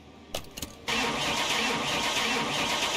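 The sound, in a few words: car engine starting on dyno in video game Car Mechanic Simulator 21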